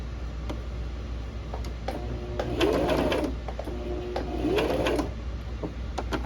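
A domestic sewing machine stitches fabric in two short bursts, its needle chattering rapidly with a whirring motor, separated by brief pauses with light clicks.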